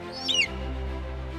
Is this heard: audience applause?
no